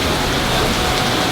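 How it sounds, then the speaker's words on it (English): Heavy tropical rain pelting down during a thunderstorm at a Singapore hilltop viewpoint, a dense, loud, continuous roar of rainfall with no distinct thunderclap. "we're in the middle of a crazy Singaporean thunderstorm. The rain is just absolutely pelting down."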